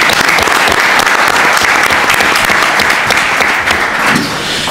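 Loud, dense audience applause at a book presentation event, continuous clapping throughout with a slight dip near the end.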